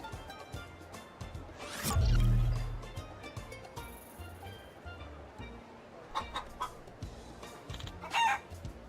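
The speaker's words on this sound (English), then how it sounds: "You can hear the chickens talking?" Chickens cluck in short, scattered bursts, joined by one loud nearby rooster crow near the start, with a few sharp clucks later over a quiet farmyard background.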